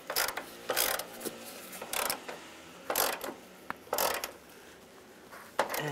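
A ratchet wrench tightens a door hinge bolt on a 2007-2013 Chevrolet Silverado 1500, making quick bursts of sharp clicking strokes up close, with short pauses between them.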